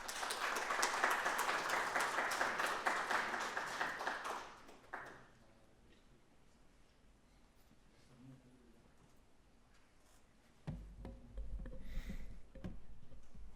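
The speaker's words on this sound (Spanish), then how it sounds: "Un aplauso, por favor." Applause from an audience at a philosophy lecture opening: a burst of clapping for about four seconds that fades out, followed by quiet room tone and faint shuffling, then a low hum.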